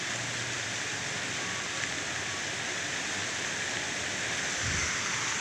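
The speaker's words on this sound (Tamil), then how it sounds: "மழை வேற இப்போ பெய்யுது பாருங்கள்" Rain falling outdoors as a steady broadband hiss, fairly soft and continuous, with no voices.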